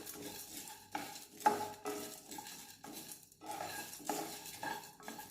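Tea masala spices dry roasting over medium heat in a pan, with repeated scraping stirs and clinks of a spoon against metal in an uneven rhythm, close and fairly quiet.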